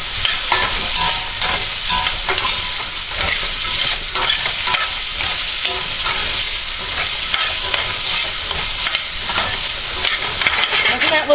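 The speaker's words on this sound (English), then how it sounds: "I'm going to turn this heat up a little bit more, and I'm going to throw the rest of these vegetables in here." Vegetables for almond chicken chow mein stir-frying over high heat, a loud, continuous sizzle with steady scraping and tossing throughout, close up and with no voices.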